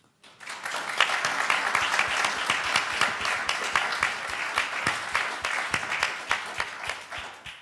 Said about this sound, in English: we thank you with a round of applause for all that you do for us